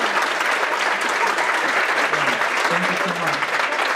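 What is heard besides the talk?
audience applause for presenters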